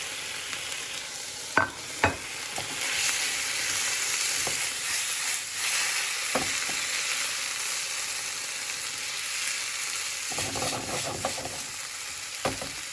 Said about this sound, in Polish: dodajemy kimchi, wrzucam ryż od razu. i będziemy wszystko smażyć.